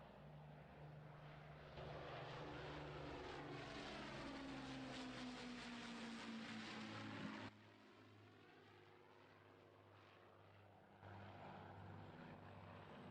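An Avro Lancaster PA474 bomber passes in a Roblox airshow game. Its propeller engines give a steady, droning roar with a falling pitch sweep as it goes by, then continue at a lower level.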